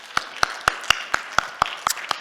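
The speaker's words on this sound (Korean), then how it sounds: "하나님 앞에 영광의 박수 올려드립니다" Congregation at Seongkwang Baptist Church clapping in unison during a worship service: nine sharp, evenly spaced claps, loud and close, with no talking.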